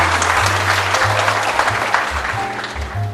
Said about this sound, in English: let's give ourselves a huge round of applause for all those 15 years of hard work